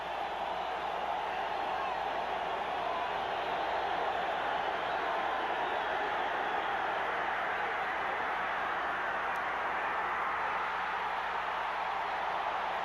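A football stadium crowd in Green Bay roars in a continuous, steady wash of cheering and noise from a 1989 Falcons–Packers game, sustained throughout without clear peaks.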